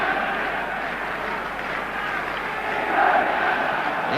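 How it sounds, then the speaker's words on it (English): A football stadium crowd at the 1966 World Cup final between England and West Germany keeps up a steady, dense buzz of murmuring and shouting that swells briefly toward the end, distant and continuous. "Crowd buzzing, arguing, wondering"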